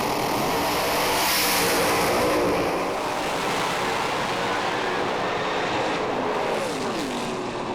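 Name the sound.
drag racing cars revving and launching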